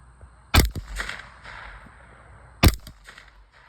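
Two sharp, loud .22 rifle shots, about two seconds apart, fired outdoors at a stack of textbooks 20 yards away, each a crisp crack with a short tail, with quiet ambient noise between them.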